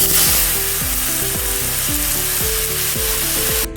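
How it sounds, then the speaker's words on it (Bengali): Chopped tomatoes hitting hot oil for a tomato chutney, a loud, continuous close-up sizzle and hiss with a repeating swooping tone running underneath, and nobody speaking. "এবারে আমি কেটে রাখা টমেটোগুলো তেলে দিয়ে দিব।"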